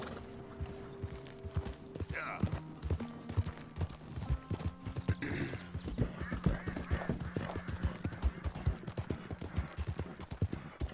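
Horse hooves clip-clop at a steady riding gait in the video game Red Dead Redemption 2, moderately quiet, with a brief whinny early on and faint background music.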